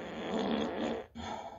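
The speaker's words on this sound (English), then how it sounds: "Here comes a springy fart." Springy novelty fart sound effect played by an Alexa smart speaker, a loud, sustained buzzy blast lasting over a second, cutting off briefly before a short trailing sputter.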